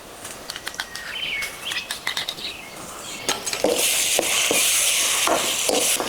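A thick paste of ground sesame, melon seed and cashew is stirred into a curry pan, giving scraping stirs and a growing sizzle that turns steady and louder partway through, with faint chirps in the background.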